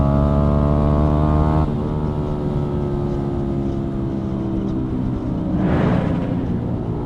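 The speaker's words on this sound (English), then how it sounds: "Danny's just got a new exhaust." Car with a new Black Widow aftermarket exhaust, a loud droning engine hum with a steady rumbling note, briefly swelling to a louder rasp near the end.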